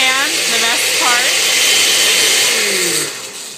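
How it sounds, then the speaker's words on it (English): A blender whirls pancake batter with a steady, loud motor whir that fills the whole stretch, while a voice talks over it and the noise eases off near the end. "Just throw it all in the blender and you just give it a good whirl."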